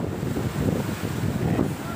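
Wind blows steadily at a seaside fishing spot, a continuous rough rush that buffets the microphone, with a surf-like wash beneath it.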